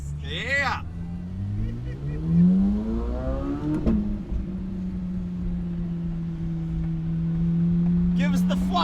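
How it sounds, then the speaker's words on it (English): A 2023 Lamborghini Huracan Tecnica engine revs up through a rising pitch, then settles into a steady loud drone close by, with brief talk at the start and end. "Car sounds nasty."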